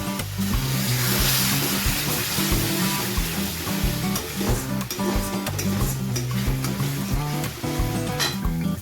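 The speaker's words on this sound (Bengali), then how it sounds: "মশলাটাকে ভালো করে কষিয়ে নেওয়ার জন্য আমি এখানে দিয়ে দিচ্ছি সামান্য পরিমাণ জল" Masala for a pomfret jhal sizzles loudly in a pan while a spoon stirs it steadily, with frequent scraping strokes and frying crackle after a little water is added, continuous and close with no talk.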